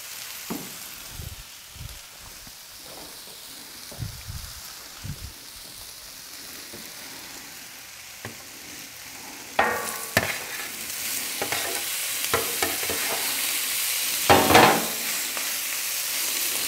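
Polish sausage and cabbage fry on a Camp Chef FTG600 flat-top griddle outdoors, quiet scraping and taps at first, then a louder, steady sizzle swelling in the second half with occasional spatula clatter.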